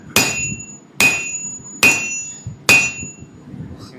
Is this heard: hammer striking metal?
yes